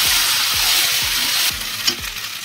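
Pasta and boiled corn fry in a pan for Indian-style pasta, giving a loud, steady sizzle broken by regular scraping stirs that soften briefly near the end.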